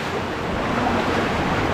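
Rough sea surf breaks along a rocky shoreline, a loud, continuous wash of churning water with wind-like rush and no pauses.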